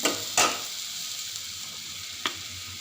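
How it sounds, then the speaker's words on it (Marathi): Thin damti flatbread batter roasting in a pan, a steady soft sizzle with a couple of brief spatula scrapes, close and alone with no talk. "एका बाजूने बाजूने भाजलेली आहे आपली दामटी आता दुसऱ्या बाजूने भाजून घ्यायची"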